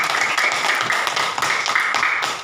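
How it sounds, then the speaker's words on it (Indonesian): Classroom children clap hands continuously, a dense, busy patter of many small hands slightly out of sync, fairly loud and close, with no voices over it. "Ayo semua tepuk tangan."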